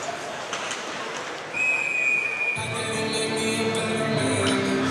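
Referee's whistle at a minor-league ice hockey game between the Atlanta Gladiators and Greenville Swamp Rabbits, a sustained shrill tone cutting through steady crowd and arena noise, followed by louder crowd rumble.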